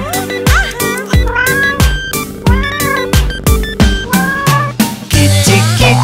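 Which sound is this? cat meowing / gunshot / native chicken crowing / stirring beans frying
cat meowing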